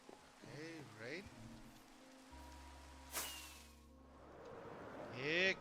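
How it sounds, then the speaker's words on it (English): Rain falls in a steady broadband hiss throughout, with tonal hums, a sharp burst midway, and voice-like calls rising over it near the start and end. "Here comes the rain again."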